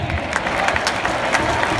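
Crowd applauding and clapping at a Valencia recortes contest, where recortadoras perform before an audience; dense, steady clapping and crowd noise throughout with no clear break.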